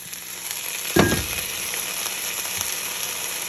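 Wild stinging nettles stir-fry in a pan, a steady close sizzle with one sharp scraping stir and a fainter second one, no voices present.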